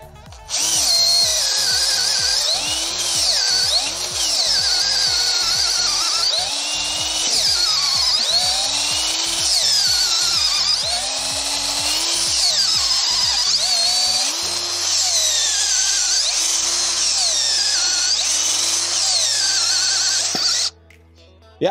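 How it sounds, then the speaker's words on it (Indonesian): A Worksite CD306-12L-C 12V cordless drill on high speed bores mahogany with a 10 mm auger bit, its steady whining motor loud and close, with repeated rhythmic pulses as the bit bites, then winding down near the end. "Uji coba kedua saya menggunakan mata bor auger ukuran 10 mm ya."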